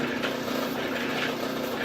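A drill bit bores into metal while a water spray cools it during a trailer expansion build, giving a steady, unbroken motor whine with a broad grinding hiss for the whole stretch.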